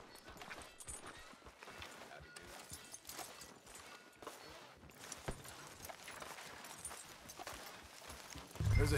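Horse hooves clip-clopping at a walk in the video game Red Dead Redemption 2, a steady rhythm of moderate, fairly close hoofbeats that carries on throughout.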